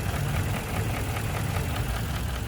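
A 6.2-liter V8 in a 2017 Ford F250 Super Duty idles at close range, its steady low rumble carrying a faint rapid ticking from the intake runner, with no talking.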